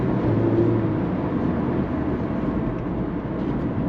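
Mazda MX-5 driven on winter roads in Scotland, its engine pulling under light throttle as a steady, droning rumble with road noise, close and continuous throughout.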